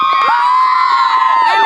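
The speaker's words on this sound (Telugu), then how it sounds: "ఒక్కసారి మన కోచ్కి అందరం క్లాప్స్ కొట్టేద్దాం." Crowd at a Khammam sports tournament cheering and whooping for their coach, a loud, sustained roar with shrill high voices and scattered shouts running the whole way through.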